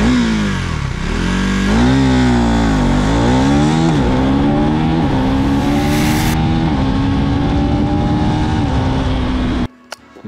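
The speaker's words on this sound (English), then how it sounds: "So let's start with the acceleration test." A 2024 KTM 390 Duke motorcycle accelerating hard, the engine revving up through several gears with rising whine and short dips at each shift, loud and close-up from onboard.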